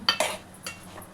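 A spoon stirs Andhra-style egg and drumstick tamarind curry in a pot after curry leaves go in. A few close metallic clinks and scrapes come in quick succession, then fainter taps fade out, with no voices.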